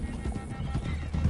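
Horses gallop with steady clip-clop hoofbeats and occasional neighing in the Red Dead Redemption 2 video game, a dense, continuous thunder of hooves at moderate loudness with some voices underneath.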